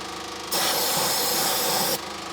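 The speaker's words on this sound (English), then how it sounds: "Hang on, let me spray it again." A spray can fires into the engine of an old car parked for 21 years, a single loud hissing blast of about a second and a half that stops sharply, over a low steady background.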